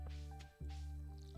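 A watering can splashes over crops in Stardew Valley, giving a short soft wet squish, a pause, then another splash, all quiet and without any talk.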